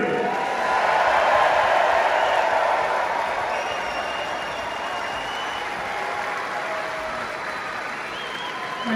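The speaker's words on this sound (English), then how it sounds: "Give a round of applause from Mark FELIX!" An audience at the Royal Albert Hall applauds during a strongman event, a sustained wash of clapping and crowd noise that swells early and then holds steady throughout.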